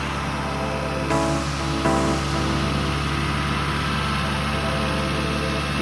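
A roughly 38-year-old Nissan Pulsar Turbo engine idles after a cold start, a steady loud low rumble with a constant hum and two brief bumps in revs, close up with no talking.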